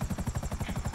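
A video game helicopter's rotor chops in a fast, steady rhythm, loud and close, filling the whole moment with pulsing low thumps and hiss.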